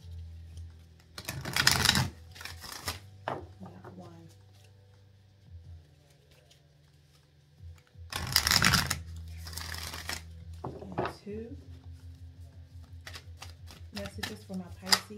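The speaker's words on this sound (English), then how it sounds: "So let's do two shuffles with the oracle." Oracle cards are shuffled in two loud, rapid riffling bursts separated by quieter handling, tapping and a woman's speech.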